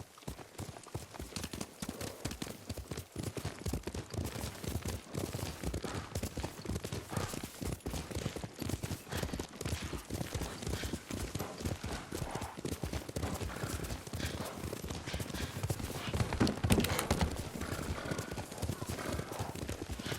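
Horse hooves clip-clop at a steady riding gait in Ghost of Tsushima, close and continuous for the whole stretch under background game ambience and occasional voices.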